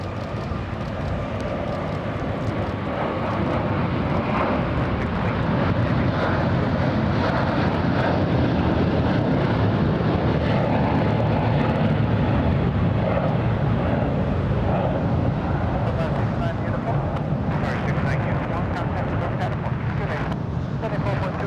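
A Qatar Airways airliner lands on runway 25 left at Los Angeles International, its engine noise swelling into a heavy, sustained rumble while people talk over it throughout.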